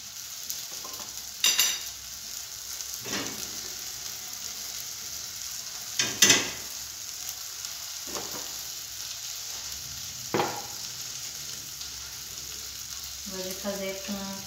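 Chicken fries in a pan with olive oil, a steady faint sizzle broken by a few louder clattering stirs and scrapes of the utensil, close up and without talking.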